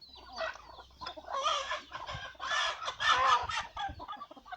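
Several chickens clucking and cackling close by, a continuous busy chatter of fowl.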